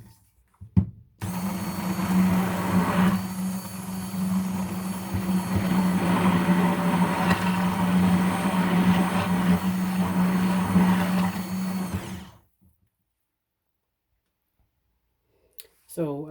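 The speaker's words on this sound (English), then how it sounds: "So I was stick blending for about 5 minutes" A stick blender whirs steadily through cold process liquid soap batter for about eleven seconds, a loud continuous motor drone with a strong low hum, then cuts off into silence before a brief noise at the very end.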